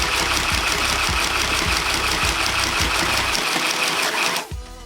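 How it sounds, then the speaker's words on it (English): Handheld sewing machine stitching a hem through three layers of denim, a loud, steady rapid mechanical chatter with regular thumping beats that runs nonstop for about four seconds, then stops abruptly. "Ooh, we can test out 3 layers. Can you do a denim hem?"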